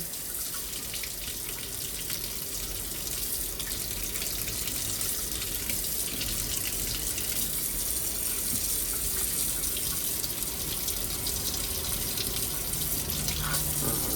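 A faucet in a new 2025 Flagstaff Super Lite 26SFK travel trailer runs in a constant, loud rushing stream, unbroken from start to end, with no voices.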